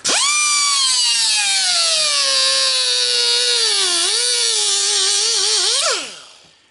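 A small, underpowered power tool with a thin blade, about 1/16 inch thick, cuts into a brass pop-off pressure release valve. It gives a loud, steady high-pitched whine whose pitch sags as the motor bogs down, then spins down at the end.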